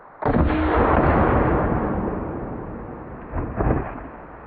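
An X Products Can Cannon fires with a loud, deep booming blast that rolls on and slowly fades, followed by a couple of smaller thuds, close by and with no voices.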